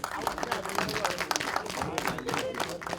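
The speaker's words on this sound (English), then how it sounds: "A round of applause, please." Scattered clapping from a small audience at a movie premiere, uneven and fairly faint, with some crowd murmur underneath.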